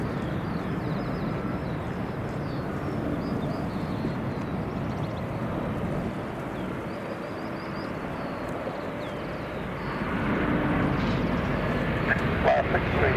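An Embraer 190SR jet comes in to land at London City Airport, its engine roar broad and steady at a moderate distance, swelling slightly toward the end, with faint radio-style chatter in the background.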